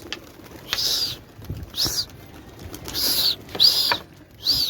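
A flock of pigeons bursts off a rooftop terrace. Several separate rushes of flapping wings come close and fairly loud, each with a bright fluttering edge, spread over a few seconds with short quiet gaps between them.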